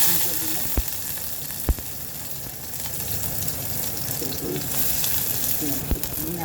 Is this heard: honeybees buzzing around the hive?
no